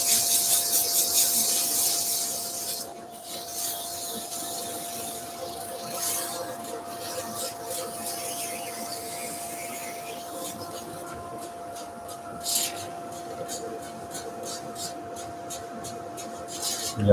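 A power sander whirs and rasps against hard epoxy resin with a steady hum, its scraping loudest at first and then softer, with occasional bumps.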